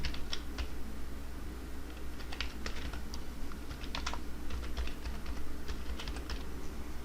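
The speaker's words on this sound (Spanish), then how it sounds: "Entonces simplemente aquí escribo el correo que acabé de crear." Quick, uneven keystrokes on a computer keyboard as an email address is typed, close and fairly quiet, clicks coming in short bursts over a faint low hum.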